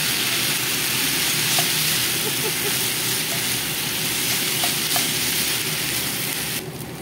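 Fried rice sizzles and hisses steadily in a pan while being stirred, a loud, continuous frying noise close by with faint scraping and no talking.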